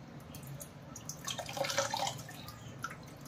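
Fenugreek (methi) leaves being swished in a bowl of water, giving soft sloshing and dripping splashes that swell in the middle and then fade, close and fairly quiet.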